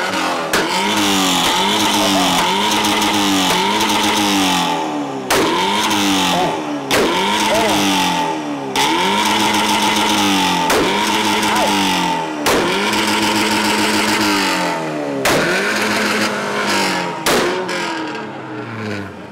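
Petrol car engine revved hard at a summer festival rev contest, loud and close, rising in repeated surges of acceleration with brief drops between pulls over about twenty seconds, no talk over it.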